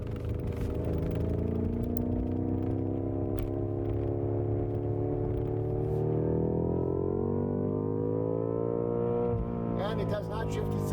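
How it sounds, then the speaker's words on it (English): A 2018 BMW M5 pulls onto a highway under acceleration, its engine note rising steadily as it climbs through the revs, heard from inside the cabin with a brief higher burst near the end. "let's do some acceleration,"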